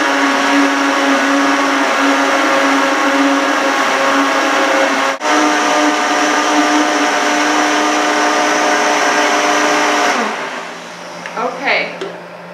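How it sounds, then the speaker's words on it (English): A countertop blender whirs steadily and loudly through raw cheesecake batter for about ten seconds, with one brief dip midway, then switches off and spins down, leaving a quiet tail with faint handling sounds. "I'm gonna start blending again"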